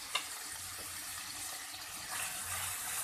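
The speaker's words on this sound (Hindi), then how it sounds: "अब इसमें पानी जाएगा, आधी प्याली पानी शामिल करें ताकि गोश्त गल जाए" Water runs steadily into a cooking pot holding oil, garlic and raw meat, a continuous splashing pour with a slight swell toward the end, close by and with no talk.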